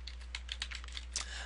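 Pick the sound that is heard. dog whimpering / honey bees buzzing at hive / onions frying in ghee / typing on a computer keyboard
typing on a computer keyboard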